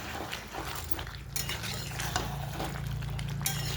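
Red chicken gravy simmers in a pot while a spoon scrapes and clinks against the metal, with steady soft bubbling and stirring noise running throughout, fairly quiet and close.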